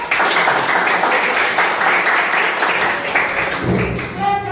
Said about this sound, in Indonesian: Tepuk tangan, Kak.